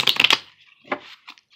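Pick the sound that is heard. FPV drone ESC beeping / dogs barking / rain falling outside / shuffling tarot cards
shuffling tarot cards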